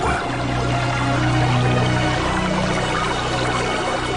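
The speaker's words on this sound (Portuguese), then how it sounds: "E saiu muita água." Water gushes out in a loud, steady rush as if striking from a rock, a continuous broadband splash with a low rumbling undertone that holds throughout.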